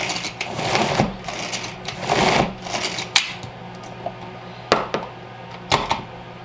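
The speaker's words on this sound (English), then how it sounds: "This is my Tupperware Pro Chef, Mini Chef. And we're just going to grind it" Tupperware Pro Chef Mini Chef hand-cranked grinder working sprouted wheat, giving rough bursts of grinding and rattling that come in uneven waves, then a few sharp clacks, loud and close.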